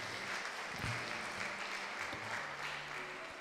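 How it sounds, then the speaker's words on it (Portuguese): A church congregation claps for its volunteers, a moderate wash of hands with a few louder individual claps standing out near the start and a low hum underneath. "Isso, palmas para os nossos irmãos voluntários."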